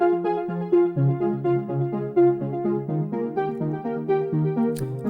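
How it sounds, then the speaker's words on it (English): A synth arpeggiator pattern cycles through quick, bouncy repeating notes in a steady rhythm, clear and alone at moderate loudness as a background layer for a song remix. "And then I also have this ARP, and it sounds kind of funny."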